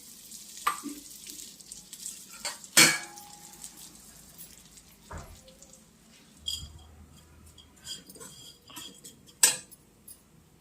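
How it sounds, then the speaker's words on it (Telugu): Flattened rice (atukulu) fries in a pan for moong dal payasam, a faint sizzle with loud metal clangs and scrapes of a spoon stirring at irregular moments, with no talking. "ఆ చిన్న గ్లాసుడు అటుకులు వేయించండి"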